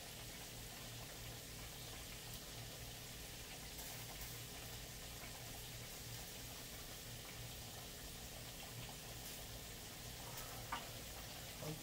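Grease sizzling steadily in a pan while sirloin chops fry, a constant faint hiss and crackle with no breaks, heard alone without talk.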